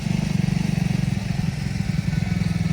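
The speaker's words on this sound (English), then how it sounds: "So first impressions riding the Triumph Scrambler 400X." A Triumph Scrambler 400X single-cylinder motorcycle runs while being ridden, its engine giving a loud, steady, pulsing thrum close by for the whole stretch.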